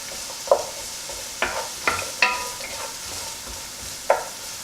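Vegetables browning in hot coconut oil in a pan for a healthy biryani, with a steady soft sizzle broken by several sharp clinks and scrapes of a utensil stirring against the pan, close by and without talk.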